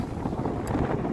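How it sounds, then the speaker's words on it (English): Gusty wind buffets the microphone outdoors on a rooftop during chimney work, a steady low rumble with no other clear sounds. "It's a bit windy today for it"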